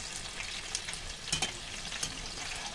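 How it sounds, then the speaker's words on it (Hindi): Green chilies frying in hot oil for vada pav, a steady sizzling hiss with a few brief clinks and crackles, close and moderately loud, no voices. "अच्छे से फ्राई हो चुकी है"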